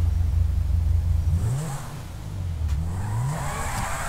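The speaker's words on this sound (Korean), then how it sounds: "야, 소리 진짜 지긴다." A Lamborghini Aventador police car in GTA 5 revs loudly, its engine note sweeping up and down in pitch a couple of times before settling into a high, whirring drone.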